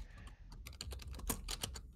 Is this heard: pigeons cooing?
no